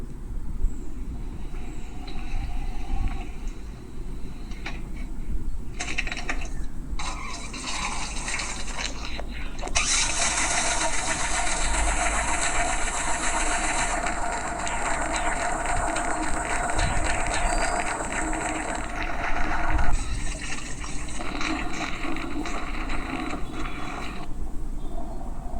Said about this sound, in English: I strapped the camera in, closed the dishwasher, and then it was time to see what happened.